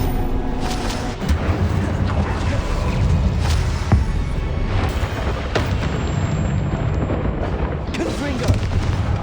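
Incendio fire spell in the Hogwarts Legacy video game, bursting out during a fight: repeated loud explosive booms and gunfire-like cracks over a steady roar of combat effects.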